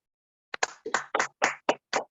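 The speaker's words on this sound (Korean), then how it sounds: "우리 박수로 모시겠습니다" A lecture audience claps in welcome for a professor before a Korean history talk, with a few sparse, distinct claps spread across two seconds, moderately near and with no voices.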